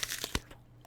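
A single crisp bite into a Green Dragon apple, one short sharp crunch with a few smaller crackles around it, close and fairly quiet with no talking.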